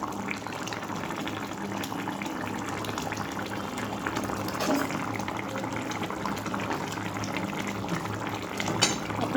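Fish curry with cauliflower and peas bubbling in a pot, a steady close simmering wash with soft liquid pops running throughout, no talk.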